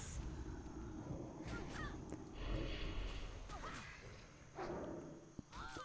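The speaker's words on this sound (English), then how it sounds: "listen to the birds." Birdsong in a garden in the World of Warcraft video game: scattered short chirps and calls, some fairly close, over a steady, hushed outdoor ambience.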